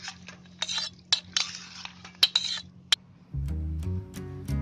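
A spoon scrapes and clinks against a pan and plate as curd quinoa is served, in a run of sharp metallic taps and soft scrapes, before steady music comes in over the last second.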